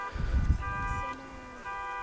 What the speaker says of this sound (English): somebody's car alarm is on.